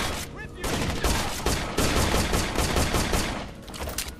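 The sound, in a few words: gunfire in video game Rainbow Six: Vegas 2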